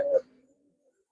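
A pigeon held in the hand gives a single short, close coo, followed by near silence.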